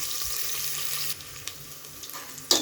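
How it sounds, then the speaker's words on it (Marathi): Onion sautéing in a pan with garam masala, a loud close sizzle with a few light stirring taps and a sharper clatter near the end, no one speaking. "कांदा परतून घेऊया।"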